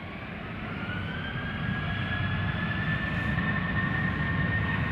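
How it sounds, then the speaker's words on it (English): A KLM Boeing 737-800 jet departs Schiphol Airport for Berlin, a steady distant engine roar with a faint rising whine that slowly grows a little louder. "KLM flight 1825 outbound Berlin, 737-800."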